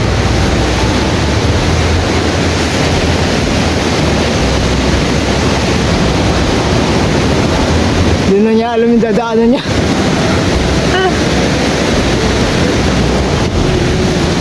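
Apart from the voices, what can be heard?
strong wind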